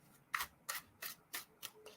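Tarot cards being shuffled in a rhythmic series of about six quick riffling bursts, evenly spaced, close and faint.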